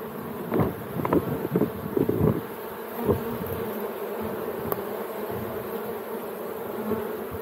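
Swarm of honeybees shaken loose from a hive droning steadily near the microphone, with a few louder passes and light wind rumble, no voices.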